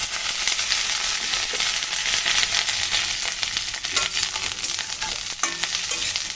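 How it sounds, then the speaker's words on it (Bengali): Potatoes fry in a pan with a constant dense sizzle and crackle, with occasional spatula scrapes and clinks, close up and with no voices. "আলুগুলো একটু লালচে করে ভেজে নিলাম।"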